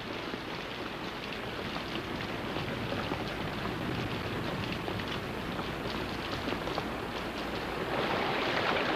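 Steady rain falls on a rainforest canopy and floor, a dense continuous hiss of drops on leaves that holds even throughout and swells slightly louder near the end, with no voices.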